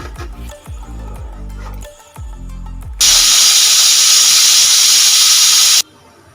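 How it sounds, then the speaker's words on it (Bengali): A pressure cooker cooking mushroom khichuri lets out its whistle, a loud, steady hiss of escaping steam lasting about three seconds, preceded by short rhythmic puffing sputters as pressure builds. "দেখুন একটা সিটি আমাদের হয়ে গেল।"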